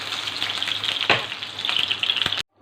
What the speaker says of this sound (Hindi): दोनों साइड से हमारे जो बैंगन हैं वो अच्छे से फ्राई हो गए हैं